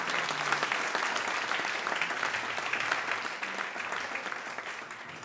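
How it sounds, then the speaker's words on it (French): Crowd applause greeting a performing duo at an Occitan television show, steady dense clapping that tapers slightly toward the end, with no clear cheering voices or speech. "qui demande une acclamation"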